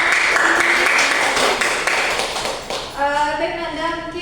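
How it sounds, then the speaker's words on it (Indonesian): Classroom applause in a microteaching lesson, a dense patter of many hands clapping loudly for about three seconds before it thins out and a voice rises over it. "Tepuk tangan."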